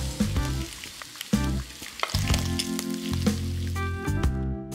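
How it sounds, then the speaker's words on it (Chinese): Bacon strips fry over medium heat in a pan with butter, olive oil, brown sugar and black pepper, giving a close crackling sizzle punctuated by sharp clinks and pops. "把整条培根平铺在锅里，中火煎至红糖完全融化，培根两面呈棕红色。"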